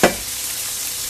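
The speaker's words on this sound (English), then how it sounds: "Let that saute around." Chopped green pepper and onion land in hot beef juices, a brief splash at the start giving way to a steady, close, even sizzle.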